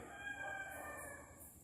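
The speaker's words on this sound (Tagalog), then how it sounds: "May mga manok nang tumitilaok" Roosters crowing near a hotel in Bicol, a single drawn-out cock-a-doodle-doo with a faint answering crow, heard softly at a distance in an otherwise quiet setting.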